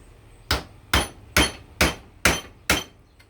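Six sharp, evenly spaced hammer blows ring out on metal as a stainless steel hose is cut open with a woodworking chisel, each strike loud and close with a short decay, no talking.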